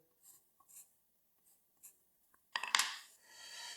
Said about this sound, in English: And I'll put a check mark.